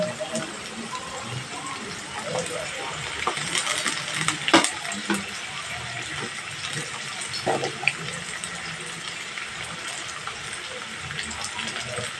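Potato pieces fry in hot oil with turmeric and salt in a home kitchen. A steady sizzling hiss runs throughout, broken by scattered clinks and scraping from a utensil against the pan.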